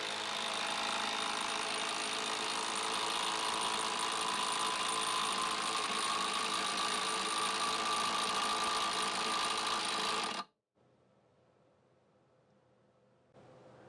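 Ryobi brushless impact driver running continuously for about ten seconds, a loud steady whirring, hammering rattle that cuts off abruptly, followed by near silence and faint background noise.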